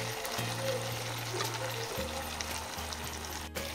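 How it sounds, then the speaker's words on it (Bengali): Pieces of mutton sauté in a pan in a home kitchen, giving off a steady, close hiss of frying over a low, constant hum, with no voices. "তো দেখো বন্ধুরা মাংসটা কষানো হচ্ছে, কালারও বেশ ভালো আসছে,"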